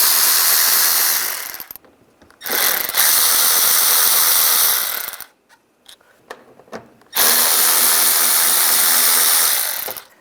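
Power tool with a T20 socket backing out bumper screws on a 1999-2005 Volkswagen Jetta, loud close whirring bursts of several seconds each, broken by short pauses and brief clicks between screws.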